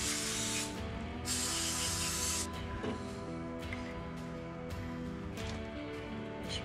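Close, loud hose spray on a rat rod wrecker truck, a dense hiss that cuts off and restarts in several bursts over a steady rumbling background.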